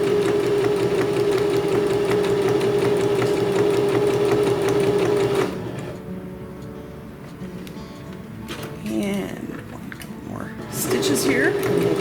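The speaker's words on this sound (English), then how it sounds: "using the edge of our presser foot as our guide so we can sew straight as possible." Sewing machine stitching fabric for a beginner's rice hand warmer, a steady close mechanical whir running for several seconds, stopping briefly for a pause with small handling noises, then resuming.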